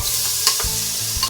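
Cumin, chopped onion and ginger-garlic paste fry in a pan with a loud sizzle, broken by a few quick scraping stirs and clanks of a utensil against the pan.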